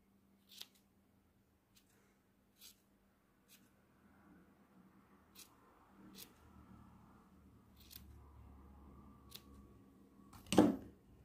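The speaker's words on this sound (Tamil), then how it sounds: "அதில் அன்னீவனாக இருக்கிறதெல்லாம் கட் பண்ணிவிடுங்க." Scissors trimming uneven strands off a woollen yarn flower, sharp isolated snips spaced a second or two apart, close and crisp, with soft handling rustle between cuts and a louder cluster of snips near the end.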